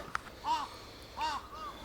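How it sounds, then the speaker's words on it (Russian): Crows caw outdoors by a river where pink salmon are being caught. Two clear, harsh calls come about a second apart, followed by a softer third, with a quiet background. "Вот вороны мной недовольны."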